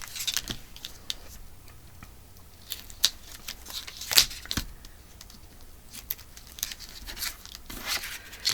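Tape being torn off repeatedly while making a small folio journal, sharp close ripping bursts at irregular intervals against quiet handling rustles, with no voice over them.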